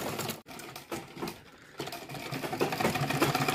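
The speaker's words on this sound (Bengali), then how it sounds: "এখন আমরা এই কাপড়টা সেলাই করে দেখবো" A Singer or Butterfly sewing machine with feed dog and presser foot trouble stitches cloth up close, a busy mechanical chatter that dips briefly, then picks back up and grows louder and more insistent.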